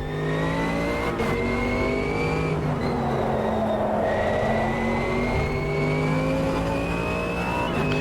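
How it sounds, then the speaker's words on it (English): A GT3 race car engine in the Automobilista 2 racing game drones and revs continuously, its pitch rising and falling through gear changes, with brief stuttering cuts in the power from traction control. "the engine kind of cutting in and out with the traction control"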